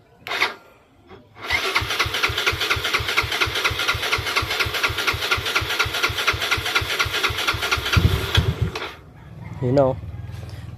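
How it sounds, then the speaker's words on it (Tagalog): A motorcycle engine fitted with a 30mm carburetor is kicked over, catches and settles into a loud, steady idle with rapid even firing pulses, then cuts back as a rooster crows briefly nearby. "Kikik ko lang ng mga ilang beses bago ko i-start starter."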